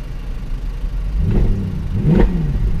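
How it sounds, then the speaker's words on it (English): A Mercedes-AMG C63 engine gives two short rising revs over a low idle rumble, close and fairly loud. "Give it a little rev."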